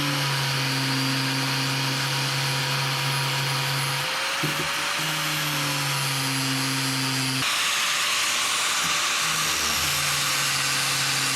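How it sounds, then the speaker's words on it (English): A power drill runs steadily in reverse on the front fender of a 1999 Ford F-450, a loud continuous motor whine that dips briefly midway and then resumes, with no talking. "Running the drill in reverse"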